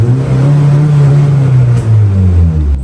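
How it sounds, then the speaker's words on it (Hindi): Straight-piped car exhaust revving hard, a loud deep engine roar rising and falling in pitch close by, held for a few seconds with no talk. "ये चेक करो जी, एग्जॉस्ट की आवाज़ चेक करो"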